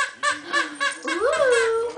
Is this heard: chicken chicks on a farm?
no